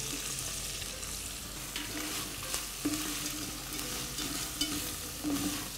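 Small chopped vegetables sautéing in a pan for a scampi cream risotto, a soft continuous sizzle with occasional light stirring taps, fairly quiet and without speech.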